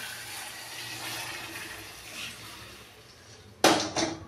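A steady low hiss, then a sudden splashing pour of hot water into drumstick curry starting near the end, close and fairly loud.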